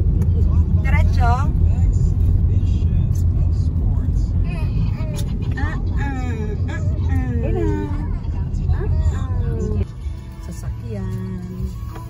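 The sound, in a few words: car driving in Malolos, Bulacan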